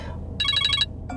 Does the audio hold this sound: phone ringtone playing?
yes